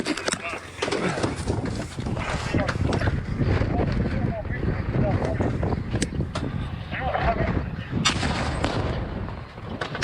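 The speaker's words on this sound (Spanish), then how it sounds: "dispara un misil desde el hombro contra un tanque ruso" Combat footage of a shoulder-fired missile launched at a Russian tank, with loud sustained blasts and gunfire-like bursts rumbling through the whole stretch, heavy and close, while voices talk over the noise.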